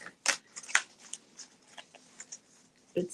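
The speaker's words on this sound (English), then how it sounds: "I'm shuffling the dog deck." Oversized cards from a large dog-themed deck being shuffled close by, with a few brisk riffling bursts spread across a quiet stretch and no talking.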